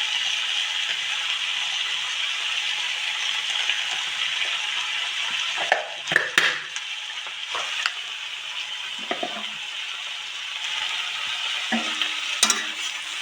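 Fish cooking in a pan with salt and turmeric while being stirred: a continuous loud sizzle of frying, broken by several sharp scraping and clinking strokes of a utensil against the pan.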